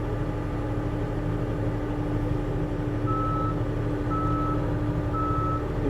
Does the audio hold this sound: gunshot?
no